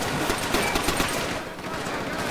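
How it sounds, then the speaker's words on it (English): Machine gun fire in the World at War shooter game, a rapid burst of close, loud shots fading after about a second and a half, with speech nearby. "That, I think that MG is going to kill me"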